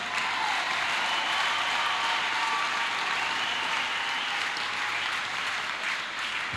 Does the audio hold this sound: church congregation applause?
yes